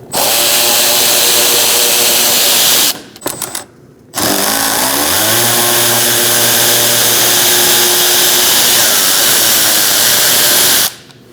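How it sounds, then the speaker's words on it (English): Power tool driving a T15 Torx bit to remove bolts from the front bumper cover of a 2016-2019 Chevrolet Cruze: a loud steady whine running for several seconds, a brief stop with clicks, then another long whir at changing pitch. "Using a T15 Torx bit, we're going to remove these two bolts"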